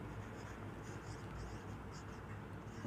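Chalk or marker scratches across a classroom board in short repeated strokes, quiet against a steady background hiss.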